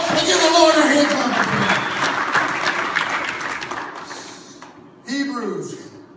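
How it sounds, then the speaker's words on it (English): Church congregation clapping for the Lord during a sermon, a dense wash of applause that slowly thins and fades, with voices calling out over it and a brief renewed burst near the end. "give the Lord a hand clap"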